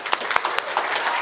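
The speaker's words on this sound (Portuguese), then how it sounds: "Salva de palmas para o Felipe." Audience applause at a motivational talk in Araraquara, São Paulo, a short burst of crowd clapping with a few sharper individual claps standing out, loud and close, no talk over it.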